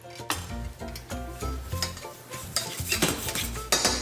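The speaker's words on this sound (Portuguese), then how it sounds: "refogar o nosso alho bem rapidamente, é o que a gente chama de suar" Garlic being sweated quickly in a pan during a Le Cordon Bleu cooking lesson: a utensil clinks and scrapes steadily against the pan over a soft sizzle, close and with no talking.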